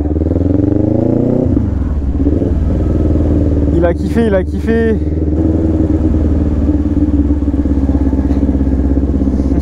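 A motorcycle engine running loud and close, a rough idle that shifts pitch as it revs, with a person talking briefly over it.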